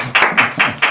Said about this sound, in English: Also from here, an applause.